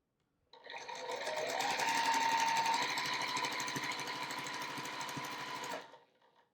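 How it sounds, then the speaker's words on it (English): A sewing machine runs in one continuous, loud, close burst of about five seconds with a fast mechanical rattle while joining triangle pieces for a flying geese quilt block, then stops. "So I'm going to sew the next triangle side on."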